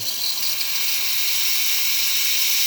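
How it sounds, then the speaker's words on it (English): A Breville XL espresso machine, freshly serviced, releases a strong, steady steam hiss from its steam wand, loud and close, running unbroken on its own without speech. "Nice strong steam."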